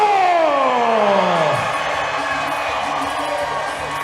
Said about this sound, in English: Another big pop here from the hometown crowd.